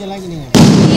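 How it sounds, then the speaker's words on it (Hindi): Diwali firecrackers go off: after a voice in the first half, a sudden loud burst erupts and continues as a dense, crackling roar to the end. "अभी दिवाली है तो पटाखे तो फोड़ना ही है"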